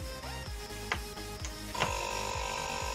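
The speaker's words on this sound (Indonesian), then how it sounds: "Oke, kompresor sudah menyala." A refrigerator compressor fitted with a start capacitor kicking on, a low rhythmic mechanical thumping pulse with a few sharp clicks, then settling into a steady hum with a high whine, close and loud.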